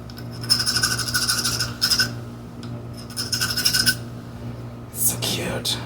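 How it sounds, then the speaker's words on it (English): Close, rhythmic rasping of a hacksaw blade scraped back and forth inside metal bores during cleanup, in several short bursts with brief pauses and a faint background hum. "My hacksaw blade."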